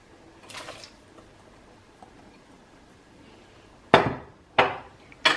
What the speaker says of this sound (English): at this point, we're gonna add the lima beans